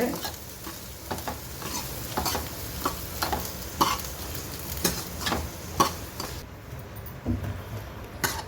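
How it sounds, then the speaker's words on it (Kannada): Oil sizzles steadily in a pan while a spoon stirs and scrapes at intervals, producing regular clinks over the frying. "ಸ್ವಲ್ಪ ಎಣ್ಣೆಯಲ್ಲಿ ಫ್ರೈ ಮಾಡ್ಕೊಂಡೇನಿ."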